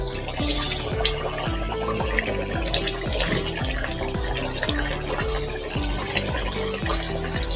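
Fish roe curry simmering in a pan, bubbling steadily with a continuous busy, popping texture of small bursts throughout, with no talk.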